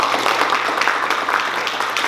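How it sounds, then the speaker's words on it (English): Audience at a data science user group meetup applauding after a presentation, a steady close patter of clapping with no voices over it. "Let's give a round of applause."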